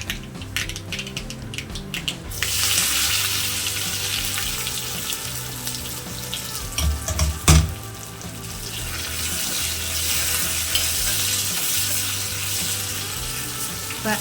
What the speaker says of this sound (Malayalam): കടുക് പൊട്ടി വരുമ്പോൾ വറ്റൽമുളക് ഇട്ട് കൊടുക്കാം